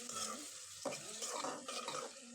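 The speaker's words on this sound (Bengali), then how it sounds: "এই তো নেড়ে চেড়ে ভালো করে কষায় নেব কিছুক্ষণ" Onion, chili and tomato stirred and fried in oil in a pot, a soft steady sizzle with scraping spoon strokes, quiet and close, with no talking.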